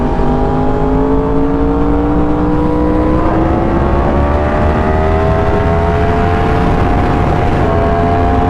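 Yamaha R1 sport motorcycle with a freshly flashed ECU, engine droning loud and steady at high revs for the whole stretch, pitch climbing slowly through the gears with brief shifts, no talk over it.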